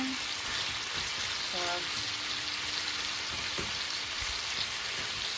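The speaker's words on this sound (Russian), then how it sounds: "Мы обжариваем до готовности лука и моркови." Onions cut in half-rings and carrots fry in a pot for a Transcarpathian bograch meat soup, giving a steady soft sizzle throughout, with a brief spoken word near the start.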